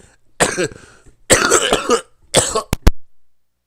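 Several harsh, close coughs come in three bursts, the last ending in two short sharp hacks, loud and alone with quiet gaps between.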